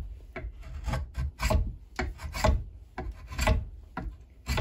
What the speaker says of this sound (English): But I do a lot of work sanding.